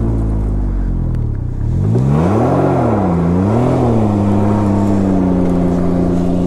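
A Can-Am Ryker three-wheeler doing a burnout on a gravelled road, its engine loud and close, revving up and down in rising and falling swells before holding a steady high drone.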